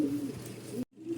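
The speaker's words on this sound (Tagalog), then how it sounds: "Ito nga pala yung ibon na na may sakit." A sick female pet bird cooing softly and close, low repeated coos over a hissy background, broken by a brief cut in the sound.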